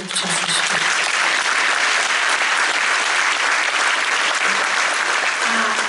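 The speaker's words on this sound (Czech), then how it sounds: "Zatleskáme mu" An audience at a folk concert at Metropol in České Budějovice claps loudly and evenly, a dense, sustained roar of hands with no talking.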